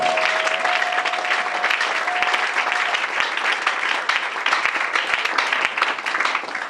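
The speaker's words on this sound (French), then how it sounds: "Acclamons très fort pour le Seigneur." A church congregation applauding loudly in praise of the Lord during a prayer service, with dense sustained clapping filling the room and a faint voice or tone briefly underneath.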